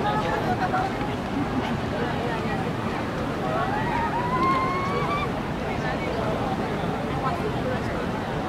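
Water moving at the Marina Bay light and water show in Singapore, a steady wash of waves under crowd noise and wind, with people talking and a faint whistling tone drifting through the middle.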